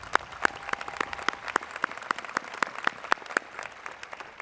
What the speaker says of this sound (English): Would you please give these folks a big round of applause?